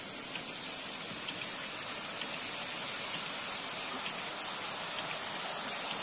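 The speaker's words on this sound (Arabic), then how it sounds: "زي ما انتم شايفين كده شلالات بكبار العبور" Heavy floodwater pours down like a waterfall during a torrential rainstorm in Obour, Egypt, a dense, continuous roaring rush that stays steady and loud throughout with no voices.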